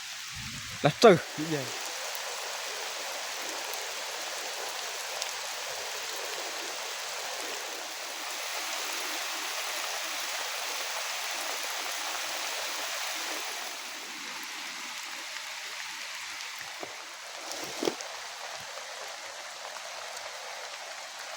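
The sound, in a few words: heavy rain falling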